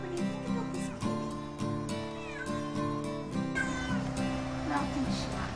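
A cat, a rescued female, meows repeatedly in drawn-out, tonal cries, close and fairly clear, with a few pauses between calls.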